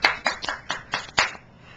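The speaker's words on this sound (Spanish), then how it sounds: "¡Aplausos!" Audience applause after a children's song: about six sharp hand claps in a quick, even rhythm, close and clear, then stopping, with no talking over them.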